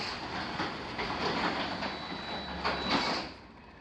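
An overhead garage door rolls shut with a continuous rattling, rumbling clatter of panels in their tracks, moderately loud and close, steady for several seconds before easing off at the end; no voices.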